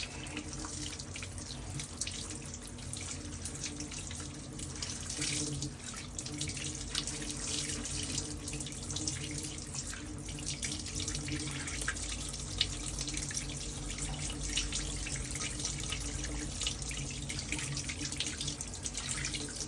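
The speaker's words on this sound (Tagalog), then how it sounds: "Banlawan nyo na." Tap water runs steadily from a faucet into a sink while a toupee is rinsed after shampooing, a constant close splashing stream with no talk.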